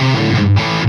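Electric guitar chords played through a distortion effect, loud and sustained with a brief break in the middle, no voices.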